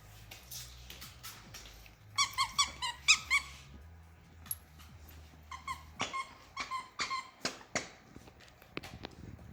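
A German Shepherd chews a squeaky toy, giving two bursts of rapid, high squeaks close by with soft chewing and shuffling between them.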